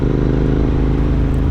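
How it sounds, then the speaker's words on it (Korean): A Royal Enfield motorcycle with an aftermarket exhaust idles close by with a loud, steady, deep thumping burble and no break in the sound. "배기 시스템을 교환했다고 하더니 역시 소리가 너무나 좋았다"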